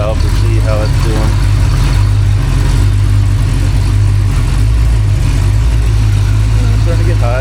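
A rebuilt Ford 289 V8 idles on a home-made engine stand, giving a loud, steady low rumble that stays even throughout with someone talking over it.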